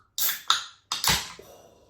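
An Electric Limeade drink can is cracked open one-handed: a few sharp metallic clicks and pops, then a soft fizzing hiss that trails away, close and fairly quiet.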